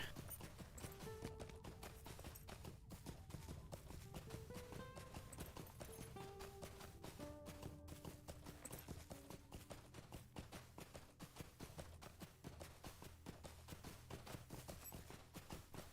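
Goat mount hooves trot in The Lord of the Rings Online, Western Gondor, a steady rapid clip-clop rhythm running continuously under game music with no talk.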